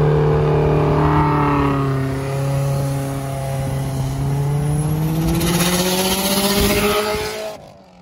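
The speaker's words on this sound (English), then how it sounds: "I'll put a video here of it doing a little pull, a little brake boost." A big-turbo Subaru WRX STI pulls hard off a brake-boosted launch, its engine note climbing steadily and loudly through the revs up close, turbo whoosh riding on top before cutting off abruptly at the end.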